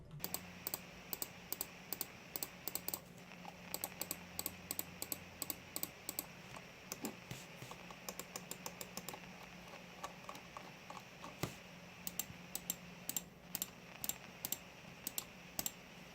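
Faint, quick ticking clicks of the notched scroll wheel on an E-Element Z7600 gaming mouse, coming in irregular bursts of rapid notches separated by short pauses, close and quiet.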